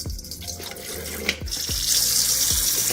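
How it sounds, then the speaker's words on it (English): Tap water runs into a bowl holding vinegar, splashing and gurgling with a few low plops, then settles into a steady hiss as it fills. "some water into the bowl along with the vinegar"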